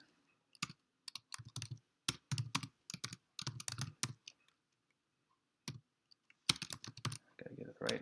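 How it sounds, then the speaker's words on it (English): Fingers type on a computer keyboard in quick, uneven clusters of close, crisp key clicks, with short pauses between bursts and a longer gap before a final run; the typing is quiet and nobody speaks. "So I'll type this up for Slack"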